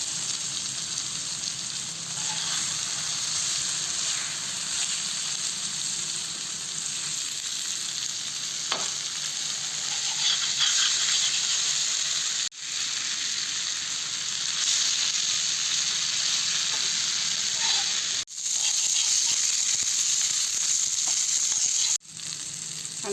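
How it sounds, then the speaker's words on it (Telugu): Korameenu (murrel) fish frying in a little oil on a tawa, a constant loud close sizzle lasting throughout with a few brief sharp breaks, no talking. "మనము నూనెలో ఫ్రై చేసే కంటే ఇట్లా తవాతో చేసుకున్నామంటే"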